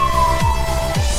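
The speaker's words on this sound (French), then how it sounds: "il y a l'ambulance qui passe et tout, là, les flics" Ambulance and police sirens pass outside, a steady wailing tone that slowly drops in pitch, heard faintly through walls beneath a low rumble of traffic.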